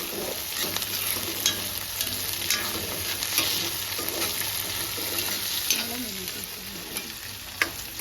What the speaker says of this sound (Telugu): ఉల్లిగడ్డలతోనే కొంచెం ఫ్రై చేసుకోవాలి రొయ్యల్ని